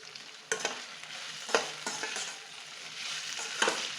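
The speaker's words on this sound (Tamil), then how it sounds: "உப்பு போட்டு ஒரு பெரட்டிட்டு" Chopped vegetables with turmeric and salt are stirred in a hot pan while cooking poha. A spoon scrapes and turns them in repeated strokes over a steady close sizzle.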